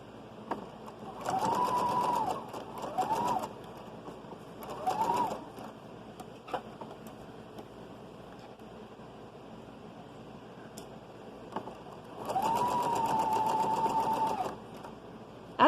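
Sewing machine top stitching a child's shrug, running in three or four steady bursts of rapid stitching separated by pauses, close and clear, with faint birds cooing in the background.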